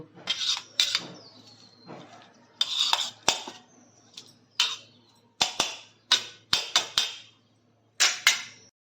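Sharp metallic clatters and clinks ring out in scattered bursts as a cooking pot is handled and covered with its lid while preparing katla fish head pulao, close and crisp against a quiet background.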